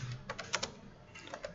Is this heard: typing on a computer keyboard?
yes